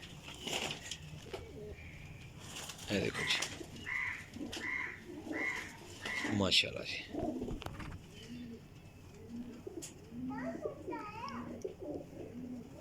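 Flocked breeder pigeons give repeated soft coos nearby, with a crow-like call mixed in, while someone talks at intervals over the birds.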